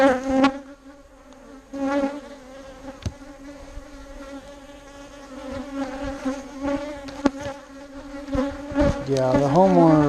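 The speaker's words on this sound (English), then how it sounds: "I cannot have angry bees." Angry honeybees swarm and buzz around an opened hive frame outdoors, a dense continuous drone with shifting pitches as individual bees pass close to the microphone, loud and steady throughout.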